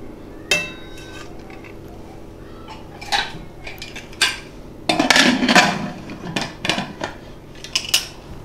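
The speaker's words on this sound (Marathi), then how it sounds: "आता यावर प्लेट ठेवूया" A steel plate is set down on a vessel sitting inside a pressure cooker for Khandeshi dal gandori, giving several sharp metallic clinks and clatters with a busier cluster of scraping knocks midway, close and alone.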